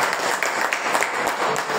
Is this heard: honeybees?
no